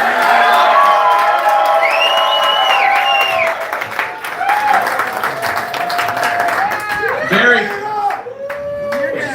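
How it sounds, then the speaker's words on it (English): Live concert audience at an 8th anniversary show erupts in loud, sustained applause with cheering and high whoops, staying dense and close for the whole stretch. "Big round of applause, loud as you can."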